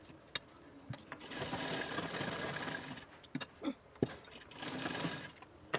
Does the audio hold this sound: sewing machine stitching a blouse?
yes